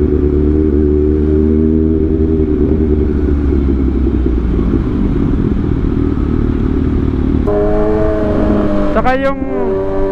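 Kawasaki ZX6R sport motorcycle on fresh Bridgestone Battlax S23 tires accelerating, a loud close engine whine with steady harmonic tones, then a sharp rising rev near the end as it pulls away.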